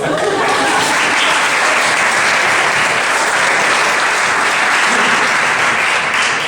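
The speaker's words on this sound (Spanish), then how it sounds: "Un aplauso para ella" An audience at a talk on ecological awareness breaks into loud, dense applause, a continuous wash of many hands clapping close by for the full stretch.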